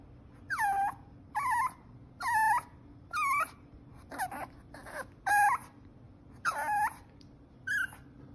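A dog whines repeatedly in short, high, wavering whimpers, about ten in a row with brief pauses, close by and alone over a low hum.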